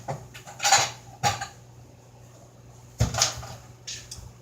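Ceramic plate clattering and clinking as it is taken out of a cupboard and set down on a counter in a home kitchen, several sharp knocks spaced apart with quiet gaps, close and distinct.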